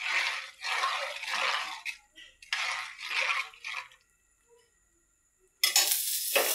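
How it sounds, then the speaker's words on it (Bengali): Dal in a pan, just topped with fried, browned garlic, is stirred in bursts of sizzling and scraping, with short quiet pauses between strokes and a final loud sizzle. "একটু নেড়ে দিব।"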